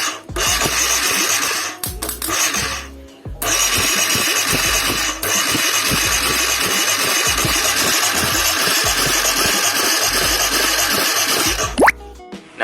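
A serviced Honda CBR250R motorcycle engine cranks briefly, stalls, then fires and runs at a steady, loud idle close by, with a short blip near the end and no talking.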